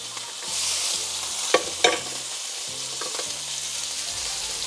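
A steak sears in butter in a hot pan, giving a loud, continuous sizzle with a few sharp pops and spatters as it is flipped and more butter goes in.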